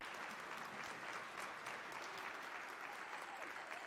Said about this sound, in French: est-ce que nous pouvons applaudir les membres du panel?